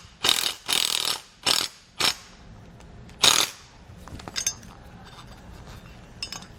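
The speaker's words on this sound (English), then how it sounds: "We'll hold the nut with a 1/2 inch wrench and just snug it down." Metal clinks and ratcheting clicks from holding a nut with a 1/2 inch wrench and a 6mm Allen key while snugging down an Air Lift LoadLifter 5000 air helper spring, a handful of sharp separate bursts followed by softer fiddling taps.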